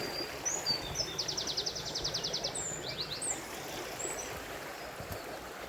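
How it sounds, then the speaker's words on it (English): Running water of a small stream babbles softly at a distance, a faint continuous gurgle, with thin bird chirps and twittering calls above it and no voices. "there's the stream. Yeah, there's something about running water"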